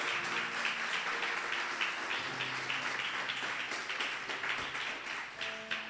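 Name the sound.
congregation applause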